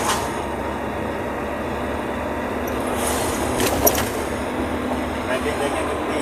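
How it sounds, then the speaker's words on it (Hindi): Heavy road traffic rumbles along a worn, uneven old asphalt link road in a development scheme area, with a steady broadband roar of engines and tyres close by and a vehicle clattering over the bumps midway, under continuous talking. "ट्रैफिक देखें कितनी हैवी ट्रैफिक होती है"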